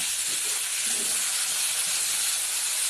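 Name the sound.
taro pieces added to a hot pan, sizzling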